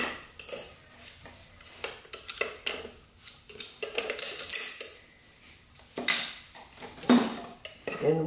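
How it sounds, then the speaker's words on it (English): A snap ring being removed from a transmission clutch pack makes close, irregular metallic clinks and scrapes, with no talk. "I'm going to take the snap ring apart."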